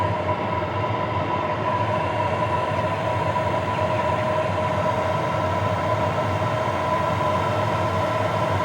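A compact Hcalory diesel heater runs with a steady, full combustion roar and a low rumble under it. The sound holds constant and close throughout, with no talking.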